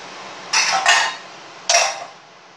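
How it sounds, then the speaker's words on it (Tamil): A pressure cooker opening during green gram curry cooking gives three sharp hissing bursts of released steam, two close together then one more after a short pause, loud and close in a quiet kitchen. "குக்கர் ஓப்பன் பண்ணி"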